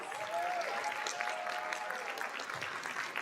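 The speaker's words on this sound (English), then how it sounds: "Jazz band another round of applause" Steady audience applause for a school jazz band at a school district event, a sustained wash of clapping heard at moderate distance without speech.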